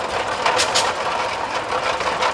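A 15 horsepower Magnet Track Future compact tractor engine runs steadily during a village parade, a continuous mid-pitched chugging hum close by with faint pulsing, no talk over it.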